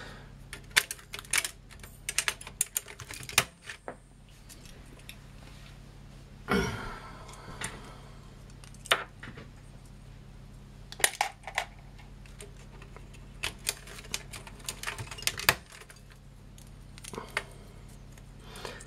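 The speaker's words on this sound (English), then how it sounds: "I'll put all the key tops in there," ZX Spectrum +2a keyboard keycaps and springs dropped into a pot, scattered plastic clicks and light metallic clatters in irregular bursts, close up and fairly quiet.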